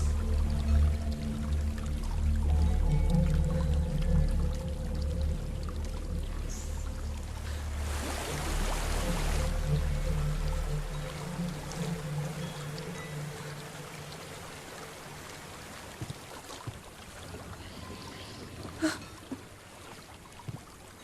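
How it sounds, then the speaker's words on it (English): Rushing water of a waterfall in the video game Hellblade: Senua's Sacrifice, a broad steady roar with a louder surge midway, fading somewhat toward the end beneath low ambient rumble and a few faint clicks. "There's a waterfall."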